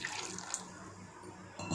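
Water pours from a tap into a pot of beans being readied for cooking. The stream is steady and close, rushing evenly for a couple of seconds, and a slight splash change comes at the end.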